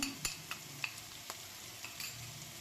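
Mixed vegetables sizzle softly in a pan as dhaba-style sabzi masala goes in, a quiet frying hiss broken by several sharp spoon clinks and scrapes against the pan.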